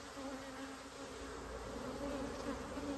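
Honeybees buzz steadily at an opened hive during a June hive check, a dense, continuous drone that stays even and close throughout, with no talking.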